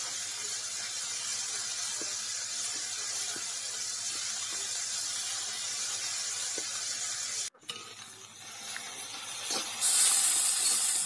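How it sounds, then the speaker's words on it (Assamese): Banana peel pieces frying in plenty of oil over a low flame give a steady soft hiss and sizzle throughout, cutting out briefly near the end before a brighter spray of hiss returns. "আৰু তেল সৰহকৈ দি এইখিনি ভাজিছোঁ"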